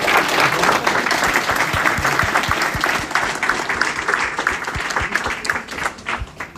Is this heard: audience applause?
yes